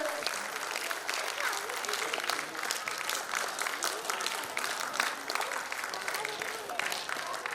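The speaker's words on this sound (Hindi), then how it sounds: "जोरदार ताली, बहुत गौरवपूर्ण क्षण है ये" An audience applauds steadily at an annual general meeting award ceremony, dense continuous clapping from many hands filling the hall, moderately loud and unbroken throughout.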